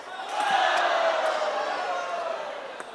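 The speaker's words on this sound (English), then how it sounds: "This is extraordinary, listen to the crowd." A crowd at a table tennis grand finals match cheers in a sustained roar, voices swelling into a loud collective yell that holds for several seconds with scattered whoops.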